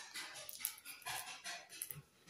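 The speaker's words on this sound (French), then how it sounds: "Si vous entendez descendre, c'est mon chien." A dog moves around indoors in a house, its soft paw thumps and scuffles coming faint and irregular in a quiet room with no talking.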